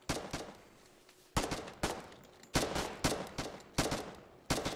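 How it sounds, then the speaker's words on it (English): Gunfire in a war video game: bursts of sharp, loud shots in quick clusters, several volleys spaced about a second apart, with no talking. "Where are those shots coming from?"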